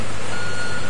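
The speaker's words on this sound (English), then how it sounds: "Here the concrete truck is delivering concrete." Concrete truck at a shotcrete site, with a steady, loud mechanical wash of engine and site noise running through the whole second and no voice present; any reversing beep is faint within it.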